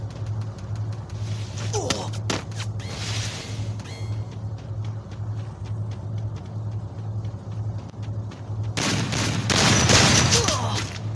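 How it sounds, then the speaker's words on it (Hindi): Gunfire in the Free Fire battle-royale game, with loud bursts of shots that sound like a shotgun and heavier firing near the end, over a steady engine drone. "ये शॉर्ट गन चलाना पड़ेगी अब"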